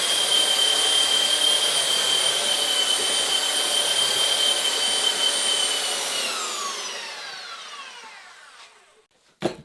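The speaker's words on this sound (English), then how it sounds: "And then I got the belt sander here. Hit it with that real quick." A belt sander runs on wooden boat frames for a Catalina Wherry, a loud steady whine and grinding roar close by that winds down over the last few seconds before a final clunk.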